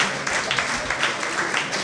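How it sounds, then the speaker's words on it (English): A brief burst of audience applause at a faculty masterclass on content creation, dense close clapping from a full room, steady throughout with no talk over it. "I think we deserve to clap for ourselves."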